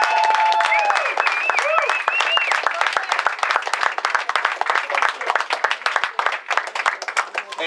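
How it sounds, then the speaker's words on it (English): A crowd bursts into sustained clapping and applause, dense at first and thinning slightly toward the end, with some whoops near the start. "Let's give them a big round of applause."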